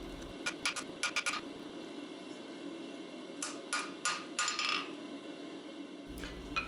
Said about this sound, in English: I'm gonna forge in a short taper over the corner of the anvil